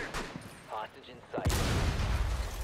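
Gunfire in the Rainbow Six Siege video game breaks out as a sudden loud burst of shots after brief, faint player chatter, continuing densely to the end.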